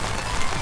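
Heavy rain pouring at Tokyo DisneySea, a dense, loud hiss of drops pattering on surfaces with no pauses and no voices.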